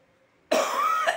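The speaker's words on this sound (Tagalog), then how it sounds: "Inuubo." A single close, harsh cough bursts out after a quiet moment, short and loud, from someone talking about old coins.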